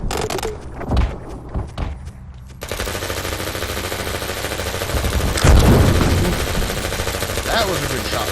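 Rapid minigun fire from a mech in a video game, a dense continuous roar of gunfire that starts after a few scattered bursts and runs steadily to the end, with a heavier impact midway.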